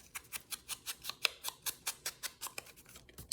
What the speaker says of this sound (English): So then we've got our card, which I'm gonna round the corners for.